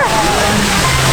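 Water rushes and splashes at the waterfall of the original Splash Mountain log ride at Walt Disney World, a loud, close wash of spray with excited voices over it.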